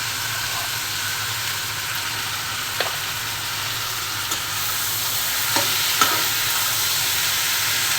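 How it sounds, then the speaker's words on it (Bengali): Malabar spinach frying with onion, garlic and green chili in a pan, giving a loud, continuous hiss with a few faint taps of stirring. "এখন পুঁইশাকটা দিয়ে দিচ্ছি।"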